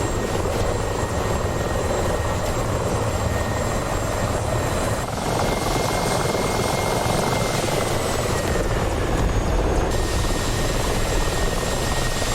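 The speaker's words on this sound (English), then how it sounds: "those choppers are tough" Military helicopters fly in a DCS combat flight simulator, their rotors and engines making a continuous loud thrumming drone with a steady whine above it that shifts pitch partway through.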